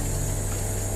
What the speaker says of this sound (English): That's the sound of a generator and a water maker running.